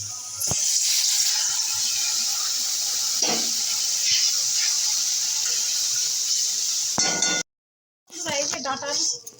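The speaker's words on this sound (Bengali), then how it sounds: "জল দিচ্ছি" Water poured into a pan while cooking cauliflower stem chorchori, a steady loud hiss and sizzle running for several seconds before cutting out, with a brief clatter near the end.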